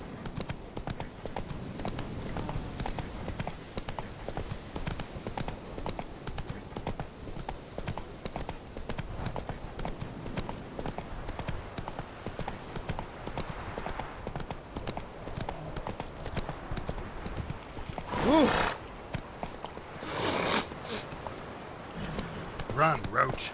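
In The Witcher 3, a horse gallops with steady rapid clip-clop hoofbeats that carry on through the whole stretch, close and prominent, while people talk over them at times.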